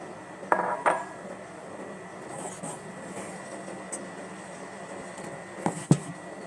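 A utensil clinks and scrapes against a bowl while bibingka batter is mixed: a few sharp taps near the start and end, quieter stirring in between, close by.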